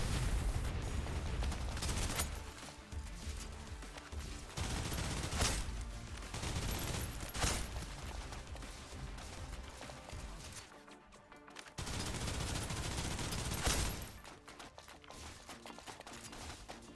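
Sustained gunfire in the Snowbreak: Containment Zone shooter game, dense bursts of automatic fire with sharp louder blasts punching through, loud and continuous with a brief near-silent gap midway.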